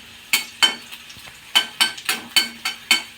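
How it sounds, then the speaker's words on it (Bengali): Ginger, garlic and dried red chili frying in a pan, with a run of sharp, rhythmic stirring scrapes and crackles over a low sizzle, close and distinct. "দেখুন আদা রসুন আর শুকনো লঙ্কাটা আমার ভাজা ভাজা হয়ে গেছে।"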